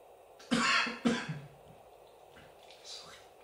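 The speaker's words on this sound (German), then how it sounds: "das wird irgendwann auch zum Running Gag, dass ich huste" A person coughs twice in quick succession, close and loud, followed by quieter breathing and throat sounds during a whisky tasting.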